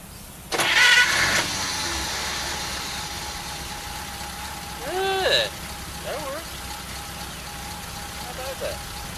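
A Pontiac's engine is cranked by a freshly repaired starter motor: a loud burst of cranking, a second short crank a few seconds later, then a quieter steady hum, with brief speech-like tones in between.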